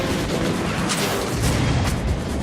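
A heavy enemy's gun fires in rapid, booming bursts in Metro: Last Light, loud and close, with dense overlapping blasts running throughout.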